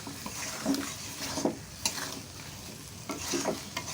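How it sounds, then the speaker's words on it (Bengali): Boiled potatoes being stir-fried in egg curry masala in a village kitchen pan, a soft continuous sizzle with repeated spatula scrapes every second or so, close and unaccompanied by speech. "সেদ্ধ করে নেওয়া আলুটা দিয়ে দেব, দিয়ে আরও 2 মিনিট কষিয়ে নেব।"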